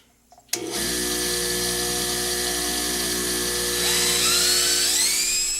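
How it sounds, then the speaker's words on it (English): A wire brush on a motor scrubs a brass tube for a Slimline pen, starting with a sudden whir that holds as a steady high-pitched whine and rises slightly near the end. "Okay, now the wire brush."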